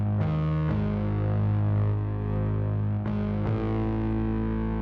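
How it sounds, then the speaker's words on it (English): Spitfire Audio Albion Colossus orchestral samples play through a compression effect as a dense, sustained, distorted low chord. Sharp re-attacks occur near the start and middle, and the level stays even and loud throughout. "So compressing it, it's going to make your low dynamics higher"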